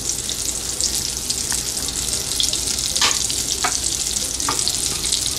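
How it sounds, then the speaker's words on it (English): Cinnamon stick and fennel seeds sizzle steadily in hot oil for a spiced peas pulao, a bright continuous crackle with a few soft clinks from stirring, close and alone without talk. "Now I am going to add our cinnamon stick and fennel seeds."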